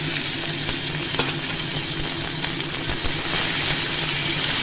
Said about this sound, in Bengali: কড়াইটাও গরম হয়ে আছে তাতে আমি পেঁয়াজ হিং তেজপাতা গরম মশলা আর শুকনো লঙ্কা তেলে দিয়ে দিলাম